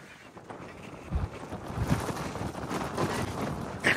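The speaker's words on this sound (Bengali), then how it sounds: "এখানে এত বাতাস" Strong wind at Dhumba Lake in Mustang, Nepal, buffets the microphone with a continuous roar and rumbling gusts, loud and close throughout.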